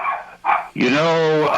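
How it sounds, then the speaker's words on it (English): A dog barks indoors, close to the microphone. Two short yips are followed by a longer, loud, drawn-out bark with a whining tone, and a voice briefly overlaps. "Sorry about my dog here."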